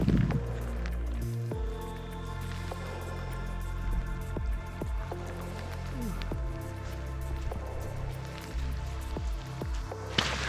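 Rain falls on the Isle of Mull, pattering and drumming steadily on a nearby surface with irregular drips and taps that continue throughout, with no talking.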